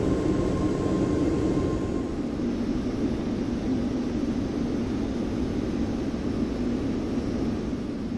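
An airliner descends toward West Palm Beach in a flight simulator game, on a flight from Atlanta. Its engine and cabin drone is steady, loud and unbroken throughout, with no one talking.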